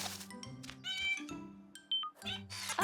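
A cartoon kitten meows repeatedly in a string of high, close, expressive mews and squeaky cries, one rising into a short wail, with no talking over it.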